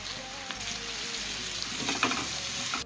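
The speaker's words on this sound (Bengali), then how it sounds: "তো ফোড়নটা তো হয়ে গেছে, দিয়ে দিচ্ছি কেটে রাখা পেঁয়াজ।" Chopped onions sprinkled with sugar sizzle steadily in hot oil in a pan, a continuous close frying hiss with occasional stirring scrapes and brief louder crackles.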